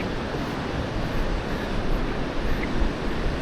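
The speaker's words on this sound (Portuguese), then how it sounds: "O vento, o mar e às vezes uns passarinhos." Ocean waves washing onto a sandy beach at Praia do Santinho, with wind blowing across the microphone, a constant loud broadband roar with no voices.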